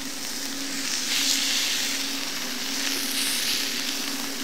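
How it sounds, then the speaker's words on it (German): Venison medallions searing in a hot pan, giving a continuous close sizzle and hiss that swells slightly at moments, with no voices. "Und jetzt geben wir unsere Medaillons hier rein. Und braten die einmal von beiden Seiten richtig schön scharf an."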